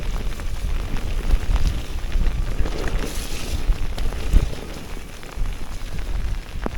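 Heavy rain pours down on a wet September mountain bike ride on a local trail, a steady dense roar of drops and wind noise close by, with no talk.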